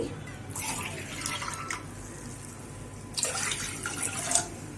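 Water poured into a pressure cooker holding toor dal for beetroot soup, two bursts of splashing pouring separated by a quieter pause, close and fairly faint.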